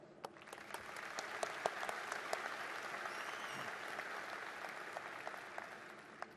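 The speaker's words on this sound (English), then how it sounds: "please recognize with your applause these representatives of the university's governing board once more" A large audience at a Virginia Tech graduate commencement applauds steadily, a broad, even wash of clapping in a big hall that holds at a moderate distance.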